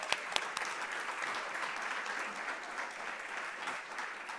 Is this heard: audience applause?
yes